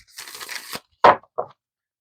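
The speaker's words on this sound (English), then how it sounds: "Give it a couple shuffles." Tarot cards are shuffled by hand: a longer riffling burst followed by two short, sharp snaps, close and crisp with silence between.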